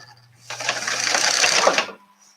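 A serger sewing machine stitches fabric for bridesmaids' makeup pouches in one continuous whirring run of about a second and a half, a fast even mechanical chatter that starts and stops abruptly, close and fairly loud.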